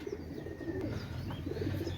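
Pakistani KTM Teddy pigeons coo in a soft, steady stream of low, repeated calls, fairly close, with no voices over them.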